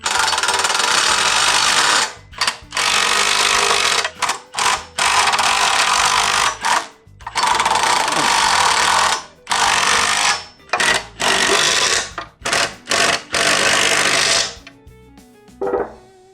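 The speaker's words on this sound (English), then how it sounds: "I'm going to take my impact driver on the front side, and I'm just gonna snug these up" Impact driver snugging up bolts while a Mojo Moto motorcycle jack hitch hauler is assembled, loud close buzzing bursts of varying length with brief gaps between them, then a quiet stretch at the end.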